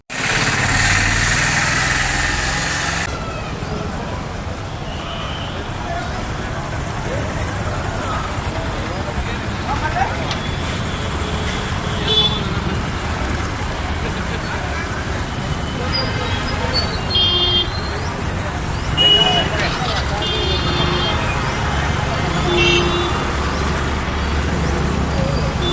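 Motorcycles idle and rev in a gig workers' bike rally running from the RTC bus stand to Satyamma temple in Puttaparthi, a dense, continuous engine drone close by with bursts of louder revving and people talking throughout.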